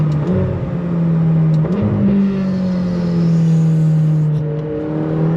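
A 2021 McLaren GT accelerating hard on throttle, its engine note climbing steadily in pitch with a brief dip as it shifts, loud and close from inside the cabin, with no talking.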